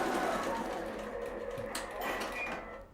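Halo-100 embroidery machine stitching a test sample: a steady, fairly quiet mechanical whir with soft rhythmic needle ticking, running continuously throughout.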